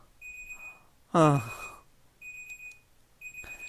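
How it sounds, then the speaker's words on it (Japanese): A mobile phone alarm rings in a video game as repeated high electronic beeping tones that start and stop, with a short sigh from a voice partway through. "携帯電話の目覚ましアラームで、俺は勢いよく目が覚めた"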